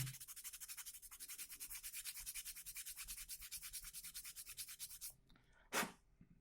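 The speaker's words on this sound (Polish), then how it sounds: "bierzemy pilnik i piłujemy" A hand file rasps back and forth across a plastic part of a PZL P.11c scale model kit in rapid, steady strokes for about five seconds, then stops, followed by one brief louder scrape.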